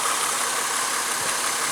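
A 2002 Honda Accord engine runs at a steady idle, a continuous even hum with no voices over it.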